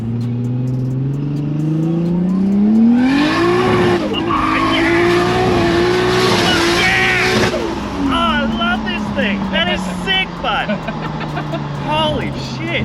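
A car accelerates hard, its engine note climbing in pitch through the gears as it revs loudly, then eases off and fades back down. The run is heard from close range, with people talking and exclaiming over it.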